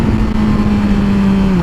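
Yamaha R6 sport motorcycle engine droning steadily at close range, a sustained exhaust tone slowly falling in pitch as it decelerates, with faint irregular popping underneath.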